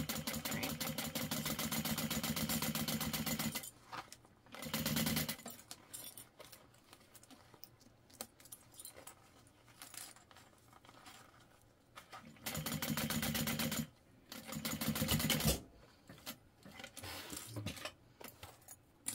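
Sewing machine basting fabric for a beachcomber pouch, running in steady mechanical bursts of a few seconds each, separated by quieter pauses with handling noise.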